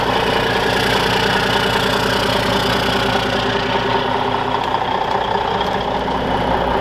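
A warmed-up engine runs on fast idle with a steady, loud, close rumble and an even mechanical chatter that holds constant throughout.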